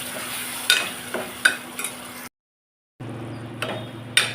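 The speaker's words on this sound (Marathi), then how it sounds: "ते मसाला चांगला तेलामध्ये फ्राय झाला आहे" Onion, coconut and garlic masala paste frying in oil for mutton, a low steady sizzle with several soft clicks and knocks from stirring, briefly cut to silence midway.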